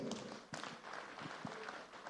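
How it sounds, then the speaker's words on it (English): Faint, steady applause from an audience at a formal event honouring the JAMB registrar and management, a continuous wash of distant clapping with a few sharper claps. "And let's give them a round of applause."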